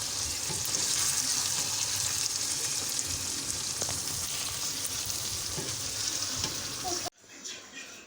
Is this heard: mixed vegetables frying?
yes